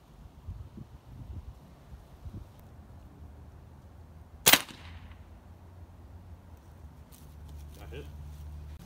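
Air rifle firing a Gamo pellet with a small orange tip into a ballistic test medium: one sharp crack near the middle, preceded and followed by quiet outdoor background with low hum.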